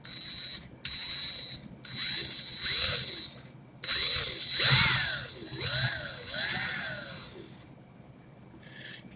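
A power drill whirs in repeated bursts, its pitch rising and falling as it speeds up and slows, with brief pauses between runs.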